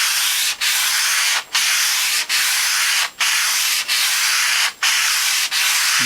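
Stainless steel top of a Norwalk juicer being sanded back and forth along the grain, a steady loud gritty rasp in long strokes broken by brief pauses at each change of direction, about seven strokes in all, with no talking.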